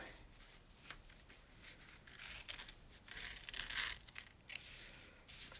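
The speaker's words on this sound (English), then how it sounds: "I'm going to trim this piece of cutaway from the zipper" Scissors snip and crinkle through stiff cutaway stabilizer near a zipper in a series of quiet, uneven cuts, close up with no talking.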